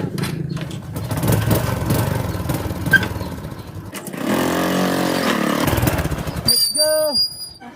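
A motorcycle with its roof removed rides along with a continuous engine drone that swells and shifts in pitch, with a voice talking over it at times and a brief whine near the end.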